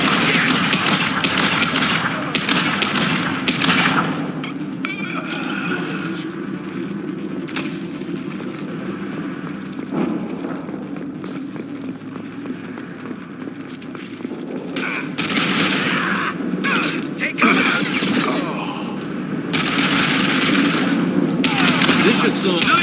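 Rapid automatic gunfire crackles through a Mass Effect 2 firefight, with bursts of shots running almost without pause over a busy background of combat effects and mechanical clatter.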